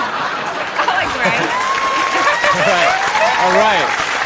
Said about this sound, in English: My mom loves those applause breaks.